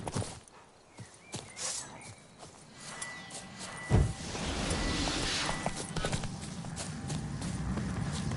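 Horse hooves clip-clop at a steady walking pace in Witcher 3, close and distinct, settling into a quicker rhythmic gait over a low ambient bed.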